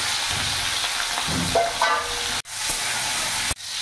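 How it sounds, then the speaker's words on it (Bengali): Shrimp rubbed with salt and turmeric frying in a pan, giving a loud, dense sizzle and hiss with a few stirring scrapes and two brief breaks. "চিংড়ি মাছটা ভালো করে বেছে ধুয়ে লবণ হলুদ মাখিয়ে নিয়েছি। এবার ভেজে দেব।"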